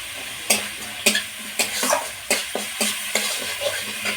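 Spice paste with salt fries in a pan for a vegetarian plantain curry, a steady close sizzle broken by regular scraping strokes of a spatula stirring about twice a second.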